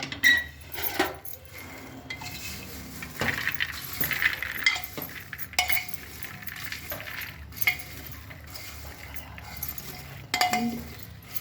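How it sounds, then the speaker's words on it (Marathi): Raw corn popping inside a pressure cooker as it is shaken by hand on the stove, giving irregular clinks, rattles and sizzling pops close up over about eleven seconds, with no talking. "मध्ये मध्ये हलवायला लागते बरं काय ह्याला कुकरला धरून"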